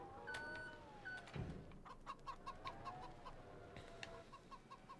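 Chicken clucking in a farming video game, a series of short rhythmic clucks and chirps over a steady game background, moderately close and clear.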